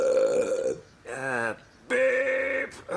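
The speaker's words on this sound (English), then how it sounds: "Didn't you hear it? You just burp." Burping in a comedy reaction scene, three long, loud, close belches in quick succession, each drawn out with a gurgling tone.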